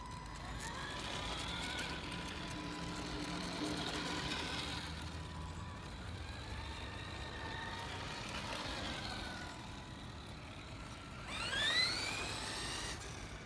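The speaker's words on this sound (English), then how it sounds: "So now we're going to go ahead and test drive it." A restored 1986 Tamiya Blackfoot electric RC truck whines faintly in the distance, its motor pitch rising and falling in short runs over a quiet outdoor background, ending with a sharp, sweeping high whine.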